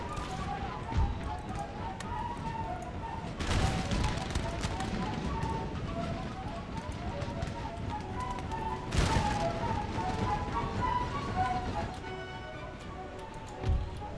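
Cannon fire booms in Empire: Total War, a few heavy blasts scattered across a busy battle soundscape with ticking and clattering in between, while a voice talks over it.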